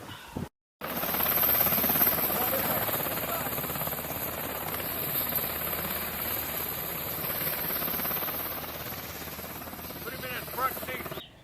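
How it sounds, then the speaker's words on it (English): A rescue helicopter's rotor and engine drone steadily close by during a winter mountain rescue in the Huachuca Mountains, a loud continuous throbbing roar that starts abruptly after a brief pause and runs unbroken for about ten seconds. "So 2 helicopters,"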